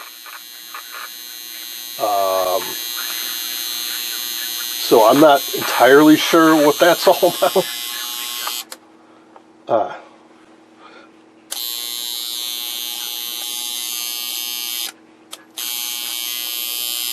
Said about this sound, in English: I didn't realize this does actually have a buzzer alarm.